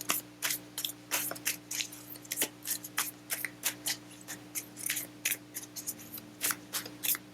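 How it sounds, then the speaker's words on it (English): Tarot cards being shuffled by hand, a run of crisp riffling bursts repeating in an irregular rhythm, close and fairly quiet over a low steady hum. "I feel like I have to continue shuffling"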